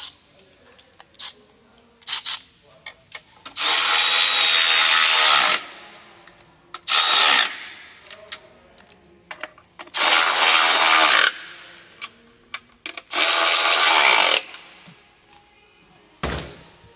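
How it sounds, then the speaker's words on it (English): A ratchet with a 10mm socket working on the intake manifold of a 3.6 Pentastar V6, sounding as several loud bursts of rapid clicking lasting one to two seconds each, separated by short sharp taps and pauses. "Get our ratchet with our 10mm."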